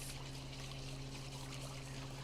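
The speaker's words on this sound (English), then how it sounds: "So I'll pour some water." Water pours steadily over brown lentils, a continuous close trickle and splash with a faint steady hum underneath, no talking.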